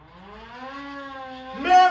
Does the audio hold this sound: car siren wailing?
yes